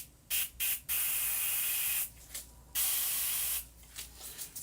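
A paint spray tip hisses in several bursts, some short and some lasting about a second, loud and close, with brief pauses in between.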